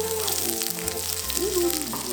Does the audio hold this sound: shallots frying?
yes